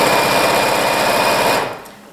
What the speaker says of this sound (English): I start sewing a little past where you're supposed to start, and I sew backwards for a few stitches.